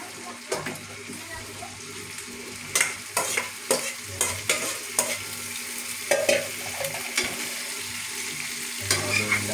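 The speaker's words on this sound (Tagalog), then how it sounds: "Haluin lang po natin." Pakbet vegetables stirred in a sizzling pan, with repeated scraping and clattering strokes of a utensil over steady frying hiss, close and fairly loud, with a little water noise.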